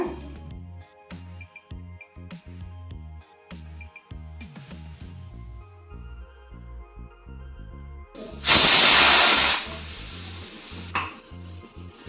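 A loud burst of hissing steam from a pressure cooker erupts partway through, lasting about two seconds, after a stretch of clattering kitchen noises and background sounds.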